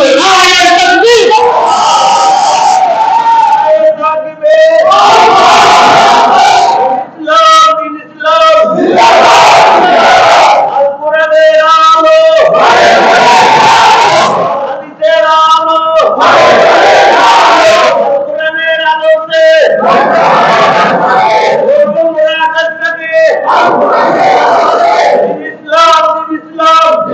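A large religious gathering loudly chants takbir slogans in call-and-response bursts, a lead voice alternating with a massed crowd roaring back, repeated about a dozen times in steady rhythm.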